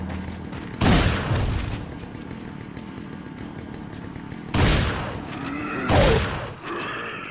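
Rifle shots in the village area of the video game Resident Evil 4: three loud, separate booming reports spaced several seconds apart, each with a short decaying tail over a low ambient bed.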